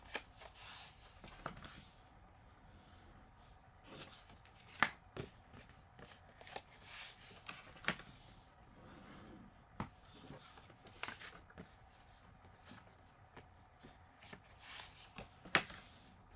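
Scrapbook paper is creased into folds by hand: quiet, close rubbing and pressing with scattered sharp crinkles and taps, spaced irregularly over a soft background.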